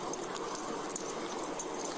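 A dog whimpers softly in thin, breathy cries that repeat over a steady, hissy background, close and without speech.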